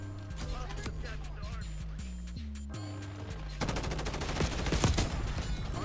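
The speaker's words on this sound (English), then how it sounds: "No, you just melted your ass with the minigun" Rapid automatic gunfire from a minigun in the video game Black Ops 6, a dense loud stream of shots that grows heavier toward the end, over steady background game sounds.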